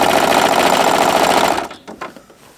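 A sewing machine stitching a quilt runs in a steady, rapid mechanical whir for about a second and a half, then stops, leaving a few faint handling clicks and rustles.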